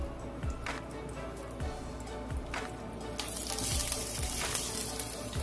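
Chopped onion hitting a hot pan for fried mondongo and starting to fry, a steady close sizzle that swells louder partway through, with light clinks and stirring over a low background hum.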